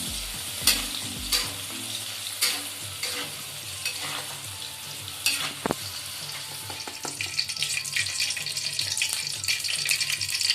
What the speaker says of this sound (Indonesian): Goreng teri hingga kering.